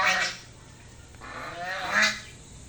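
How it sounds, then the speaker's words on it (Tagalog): Geese honking, gathered with their young goslings: two loud, nasal honks, one at the start and another about two seconds later, close by, with quieter calls between them and no talking. "Ang daming gansa."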